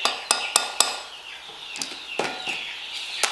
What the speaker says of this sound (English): you have a hammer, and you beat it in